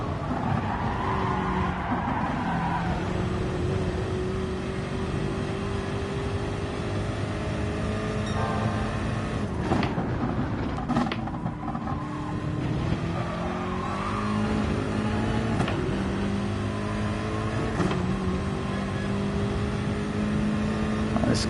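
A race car engine in a racing video game drones continuously, revving and shifting pitch through gear changes and corners, loud and steady throughout with no talk over it.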